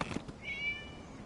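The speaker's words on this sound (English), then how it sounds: "It was just a cat." A cat gives a single short, clear meow in the video game Genshin Impact, close and alone against quiet background ambience.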